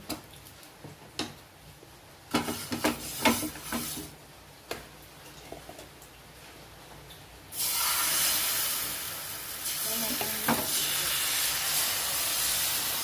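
Dosa batter cooks on a hot griddle: quiet taps and a few clicks, then a sudden, steady steamy hiss that swells and holds, close and fairly loud, with no talking.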